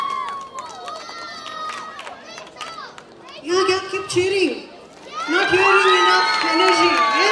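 Children and a crowd cheering at a Hindu temple celebration, with excited shouts and voices surging in two loud bursts over a background of chatter and children playing.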